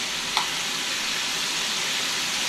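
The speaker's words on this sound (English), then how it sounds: "It's starting to sizzle." Wild hog meat frying in a hot pan gives a loud, steady, close sizzle with a brief pop early on. No one speaks.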